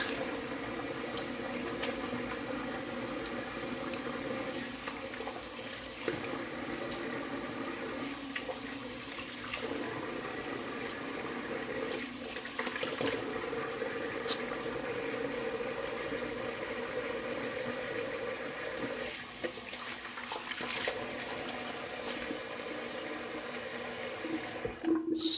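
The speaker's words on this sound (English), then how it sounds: "Here's some water running." Steady running water rinses off a person's head, a continuous close hiss with faint splashing and no speech throughout.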